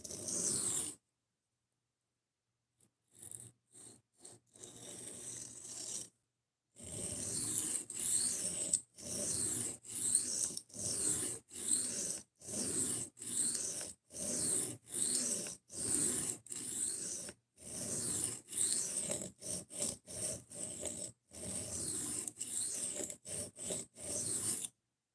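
A knife blade is rubbed over a sharpening stone in repeated rasping strokes, each a short gritty scrape with brief pauses between, steady and close, after a few seconds of silence near the start.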